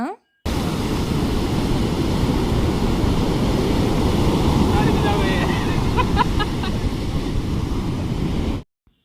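Sea waves wash up on a Vizag beach in a continuous, loud surf roar, overlaid by gusty wind buffeting the microphone, with faint voices briefly audible midway.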